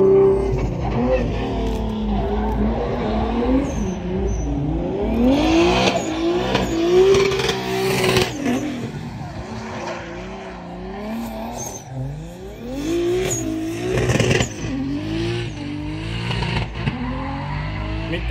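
Electric Mercedes EQC motor whirring up and down with squealing tires as the car drifts, loud and close, with voices speaking over parts of it.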